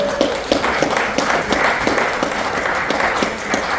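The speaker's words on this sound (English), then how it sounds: "Give her a clap." A close, lively round of applause at a 90th birthday celebration, with many hands clapping at once and a few sharper individual claps standing out from the steady patter.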